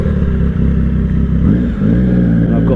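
A Triumph Street Triple 765 RS motorcycle engine roars loud and close, a dense, steady rumble with a brief dip and swell in revs partway through.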